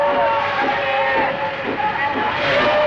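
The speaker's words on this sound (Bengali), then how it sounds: "ওরে শিয়ালদা স্টেশন তো হাট রে ভাই, গোলমাল যে শুনবি আর বিচিত্র কি।" Dense crowd commotion fills Sealdah railway station, a steady wash of overlapping voices and shouts with no single speaker standing out, loud and continuous throughout.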